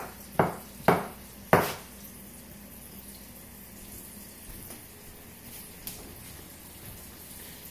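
A kitchen knife cuts through mushrooms in three sharp, close chops on a board in quick succession, followed by a quiet stretch with only faint clinks.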